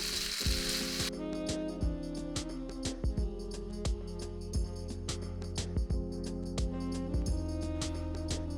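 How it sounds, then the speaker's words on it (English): Chicken and spaghetti stirred in a sizzling pan, a steady fry hiss with repeated utensil scrapes and clinks against the pan at an even rhythm, close and moderately loud, with no talking. "Stir, just kind of stir it around."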